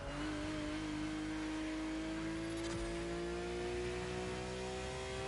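A hypercar engine in the racing game The Crew Motorfest holds a loud, steady drone whose pitch climbs slowly as the car revs, with no talk over it.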